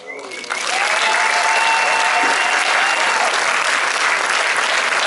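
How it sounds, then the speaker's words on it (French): A French cinema preview audience bursts into loud, sustained applause for the directors, dense clapping that fills the room steadily after a brief quieter start. "merci de faire du bruit pour les deux réalisateurs Olivier Ducret, Wilfried Méance"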